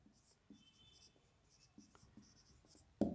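A teacher writes on a board during a chemistry lesson, with faint intermittent scratching strokes and a louder knock at the end.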